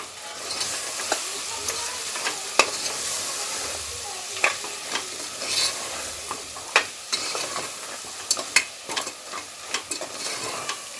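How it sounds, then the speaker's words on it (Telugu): Mutton curry with coriander powder stirred in a pan, with repeated spatula scrapes and clinks over a continuous frying sizzle, close and rhythmic, with no talking. "ఇప్పుడైతే మంచిగా కలుపుకోవాలి మనము"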